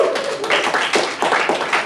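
A comedy club audience applauds as two comedians come up on stage, with a dense, steady wash of clapping that swells in short waves over about two seconds.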